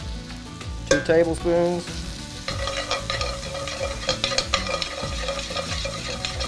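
Mushrooms fry in butter in a hot pan with a bright crackling sizzle and stirring strokes, mixed with tonal ringing sounds and a brief spoken phrase.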